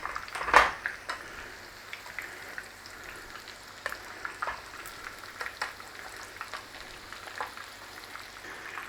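Coconut-coated chicken pieces fry in a pan with a soft, steady sizzle and crackle, broken by clinks and taps of utensils as the pieces are turned, with no talking.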